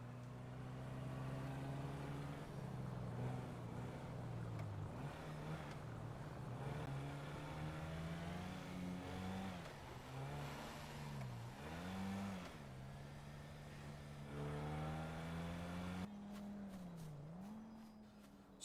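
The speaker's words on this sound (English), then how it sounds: "So we're gonna drive again." A car engine in the video game GTA 5 drones loudly and steadily without a break, its pitch swooping up and down as the vehicle revs and eases off; no voices are heard.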